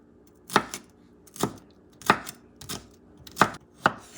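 A knife chops a red pepper into pieces on a cutting board, six sharp, close knocks spaced roughly evenly, with quiet gaps between them.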